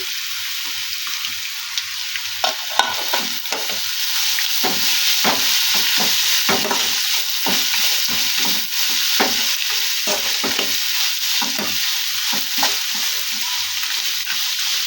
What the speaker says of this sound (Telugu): బాగా లో ఫ్లేమ్లో దీన్ని బాగా ఫ్రై చేసుకోవాలి